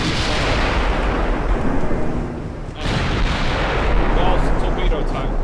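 Heavy 18-inch naval gun shells fired at long range, a sustained roaring rumble of deep booms that fills the whole clip, loud and continuous with a brief dip midway.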